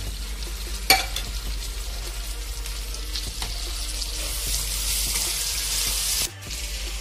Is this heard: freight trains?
no